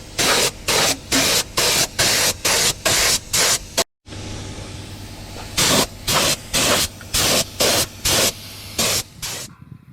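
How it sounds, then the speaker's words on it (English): Satin black paint sprayed onto a Mercedes-Benz Unimog gearbox in repeated loud hissing bursts of about half a second each, with a short pause in between and one clear gap in the middle. "we start spraying black, satin black."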